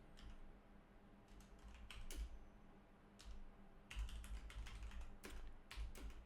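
Steady typing on a computer keyboard while writing Unity code, a close run of quick key clicks with a few heavier strikes over faint background hum, and no talking.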